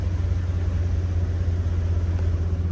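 A truck engine idles steadily right after a starter replacement, a close, continuous low rumble holding even for the whole stretch with no voices over it.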